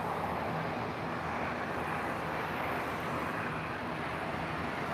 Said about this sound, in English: That's an A330 Neo. First one to land today with that size.